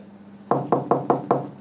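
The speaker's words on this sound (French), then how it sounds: "Ça toque à nouveau. Toc toc." Five firm knocks on a door, loud and close, the first following a brief quiet stretch and the rest coming in a quick, even rhythm.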